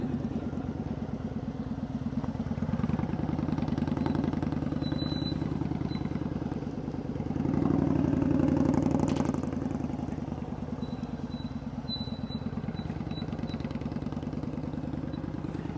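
A motorcycle engine runs steadily through slow-speed riding practice on a New Jersey lot, holding a low idle-like drone with a gentle swell of throttle midway, close and continuous without talk.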